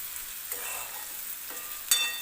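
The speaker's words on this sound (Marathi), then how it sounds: "त्याला परत एकदा थोडंसं मिक्स करून घेऊया" Potato poha is stirred in a hot pan, producing a soft, even sizzle with faint scraping strokes and one brief sharper clink near the end.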